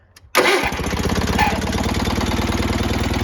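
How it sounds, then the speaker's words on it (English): A small Onan B48M engine on a Roper RT16T lawn tractor catches and settles into a steady, even idle, its rapid regular putter running close and loud after a brief quiet start. "This thing purrs like a kitten. What a nice engine."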